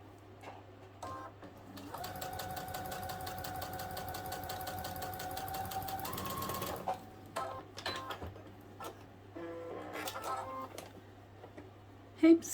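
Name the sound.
sewing machine stitching a narrow hem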